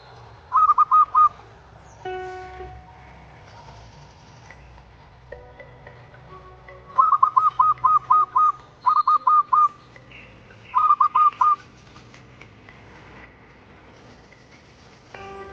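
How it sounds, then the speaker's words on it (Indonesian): A perkutut, a Javanese zebra dove of the trajumas type, gives short bursts of rapid whistled coos at intervals, clear and close over a quiet background with faint other sounds between calls. "burung perkutut dengan katuranggan trajumas"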